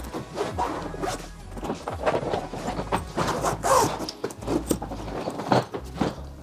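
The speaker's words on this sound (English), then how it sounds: "So I'm going to zip it up and show you guys what it looks like when you guys do close it." An expandable luggage suitcase from a Coolife set with a front pocket is zipped shut in a run of close, raspy zipper pulls, with short pauses and light handling knocks between strokes.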